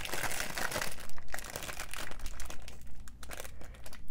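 Crinkling of plastic bag packaging around a Bandai movie monster series Anguirus figure, a close, continuous crackling and rustling handled for several seconds with no talk.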